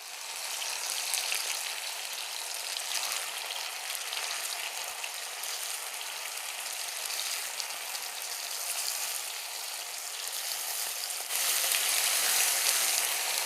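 Chicken sizzles steadily in hot oil, a dense, even crackle that stays loud and unbroken, then grows slightly stronger near the end, with no talking.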